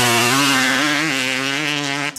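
Yamaha YZ two-stroke motocross bike, a 2009 YZ250 or YZ125, screaming at high RPM with a steady, loud, buzzing engine note that holds throughout and cuts off abruptly at the end.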